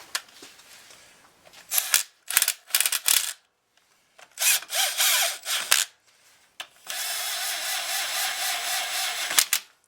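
Handheld power tool driving bolts on a hitch for a 1964 Ford F100 4x4, running in short bursts with pauses and then one longer steady run, close and clear.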